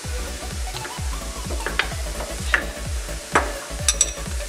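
Coriander, chili and pepper powders stirred and roasting in a pan for squid roast, a steady soft sizzle broken by regular scraping strokes of a spoon, close and even.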